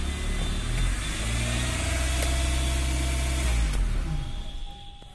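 A Toyota car with a 4E engine, suffering a fuel pump fault, runs steadily at a close, loud level for most of the time, with a low engine drone that holds even and then eases off toward the end. No voices.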